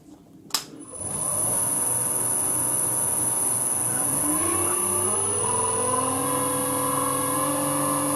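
A vintage Karger lathe spinning up with a loud ringing whine after a sharp metallic clink, then a carbide insert cutting case-hardened steel, steady and close with rising tones as the cut settles in.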